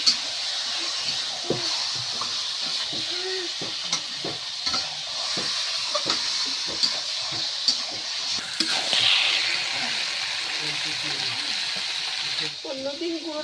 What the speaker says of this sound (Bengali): মশলাটা হয়ে গিয়েছে আর মাংসটা দিয়ে দিচ্ছি।